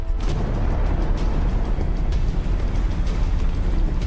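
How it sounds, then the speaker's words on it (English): A volcanic eruption rumbles with a heavy, continuous low roar and explosive bursts, loud and sustained throughout without speech. "There's an explosion. Another one, yeah."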